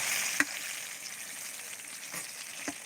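Winter melon frying in hot oil gives a steady, moderate sizzle, with a few faint clicks and taps from a utensil now and then.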